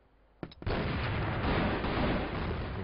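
A high-explosive grenade goes off in a CrossFire match: a couple of sharp pops, then one heavy, close blast whose roar holds loud and sustained for about two seconds, with no speech.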